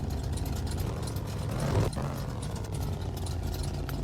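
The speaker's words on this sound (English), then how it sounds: "I can't get over the exhaust note of this car" A Plymouth Satellite classic car engine idles with a low, throaty exhaust rumble, holding steady with a brief surge in the middle.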